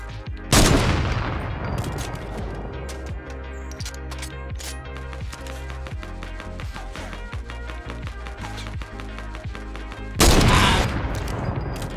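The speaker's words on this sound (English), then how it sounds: "They want to have a sniper battle." Sniper rifle gunfire in a Fortnite match: sharp, loud shots crack out near the start and again near the end, with a steady patter of smaller rapid reports and game noise in between.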